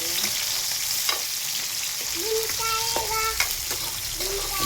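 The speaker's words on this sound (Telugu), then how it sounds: "ఆనియన్స్, టమోటాస్ రెండు కలిపి వేసుకోవాలి" Onions and tomatoes frying together in a pan give a steady close sizzle with occasional stirring clatter and a few faint high-pitched background tones.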